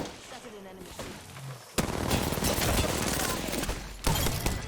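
Dense automatic gunfire erupts in an Apex Legends match, a sudden loud burst of rapid shots that runs continuously to the end, with a brief lull and voice-like tones beforehand.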